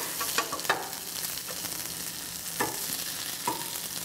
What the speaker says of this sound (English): So after they've been cooking for 5 minutes and the bottoms are crispy, we're gonna flip them over and cook them for 5 more minutes.